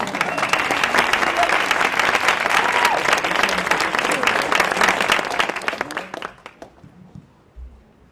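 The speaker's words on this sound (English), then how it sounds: "please give them a round of applause" Conference plenary audience applauding the panelists, full crowd clapping with distinct sharp hand claps that stays strong for about six seconds, then thins to a few scattered claps and a soft thump as it dies away.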